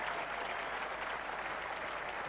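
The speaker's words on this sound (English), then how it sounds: "And rightly there's applause for that" A cricket crowd at England versus Pakistan's 1987 first Test applauds England reaching 200, a steady wash of clapping from a large, distant stand that continues without a break.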